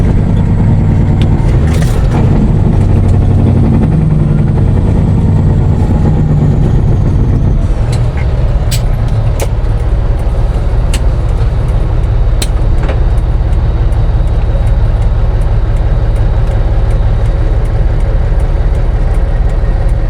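Loud, close heavy truck engine drone while driving, steady low rumble throughout, easing slightly partway through as a few faint clicks and rattles sound over it.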